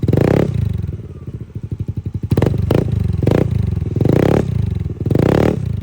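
A Kinochi 5 motorcycle engine with a loud aftermarket exhaust pipe, no silencer, idles with rapid popping pulses, then revs sharply in several bursts, close by and raspy.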